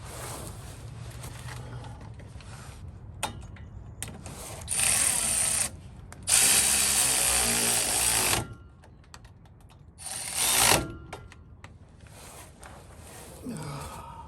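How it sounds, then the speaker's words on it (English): Hand tools and metal clanks while fitting a drive shaft under a 1972 Chevrolet Impala, several loud bursts of ratcheting and scraping spread over the clip, with quieter shuffling and handling noise between them. "So let's get this drive shaft in."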